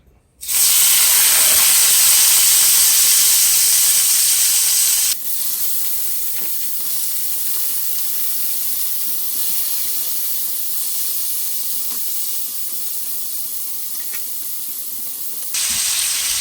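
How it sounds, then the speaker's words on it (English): Loud, steady sizzling hiss of chicken frying in a hot skillet, continuous for the whole stretch, with a sharper burst at the start and end. "Now we're going to place the chicken in the skillet."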